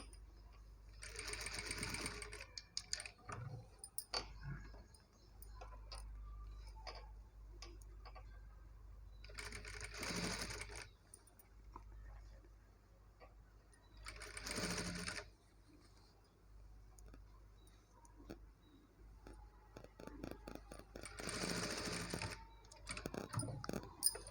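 A sewing machine stitches a blouse, joining lining cloth to the main fabric, running in several steady bursts separated by short pauses and small clicks, with a low hum underneath.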